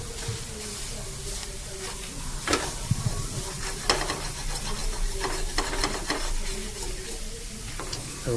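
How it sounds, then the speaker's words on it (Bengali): Boiled leafy greens being stirred and dried out in a wok for a mashed bharta, with steady scraping and stirring strokes and a soft sizzle running throughout, punctuated by a few sharper knocks, close and moderately loud. "কড়াইতে ধরে নেবে, একটু নেড়ে নেবে, এর জলটা একদম শুকিয়ে নেবে"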